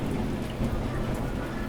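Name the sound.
rain and thunder, ASMR sound effect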